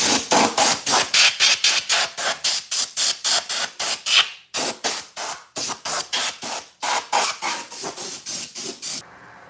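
Rapid repeated spritzes from a spray bottle onto a resin blank on a wood lathe, about thirty sharp hissing bursts in quick rhythmic runs with two brief pauses, close and fairly loud.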